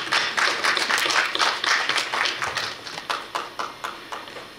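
Audience applause welcoming a newly introduced student at a Korea University graduate school entrance ceremony, a steady burst of many hands clapping that thins into scattered claps near the end.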